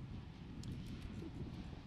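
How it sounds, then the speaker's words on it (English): Wind blowing outdoors, a steady broadband rush buffeting the microphone for the whole short stretch, with no voices. "Listen, I know it's windy."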